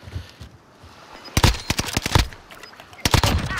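Gunshots in the video game Call of Duty: Modern Warfare, sharp loud cracks in a quick burst, then a pause and another cluster of shots, over faint background ambience.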